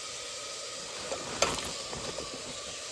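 Crab pieces dropped into a sizzling home-style crab curry set off a steady frying hiss, then a sudden louder spatter and crackle that settles back into bubbling and stirring.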